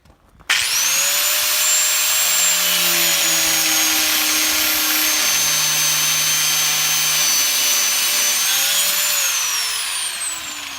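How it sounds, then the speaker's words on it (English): A cutoff wheel grinding through metal on a 1989 Ford F150 makes a loud, sustained high whine that holds steady for about ten seconds before tapering off, with no talking. "I'm gonna have to go find the cutoff wheel"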